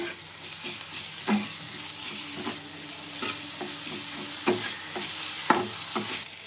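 Chopped green chilli, ginger and garlic sizzle steadily in hot oil in a pan for egg curry, with a spatula scraping and stirring in irregular taps and clinks over the constant hiss.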